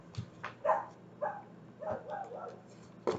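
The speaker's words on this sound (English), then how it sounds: "sorry if you guys can hear my dogs, they're outside" Several dogs bark outdoors in a handful of separate, fairly faint yips and woofs spread irregularly over a few seconds, muffled as if heard from indoors.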